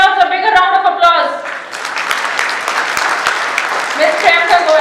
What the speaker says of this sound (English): She deserves a bigger round of applause.